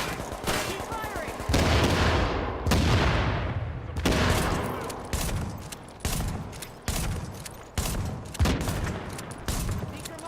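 Heavy gunfire from a firefight in Tom Clancy's The Division, with sustained automatic bursts and sharp shots that repeat in loud waves across the whole stretch, some falling away into echoing tails.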